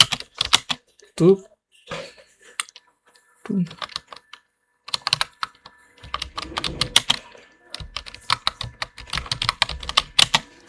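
Computer keyboard keys are typed in quick bursts of close, crisp clicking, separated by pauses, with someone speaking between the runs of keystrokes.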